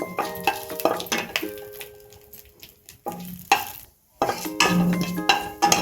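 Cumin seeds and dried red chillies are stirred in a hot pan of oil, giving a steady sizzle broken by sharp spoon scrapes and knocks against the metal, with a brief lull before the stirring resumes.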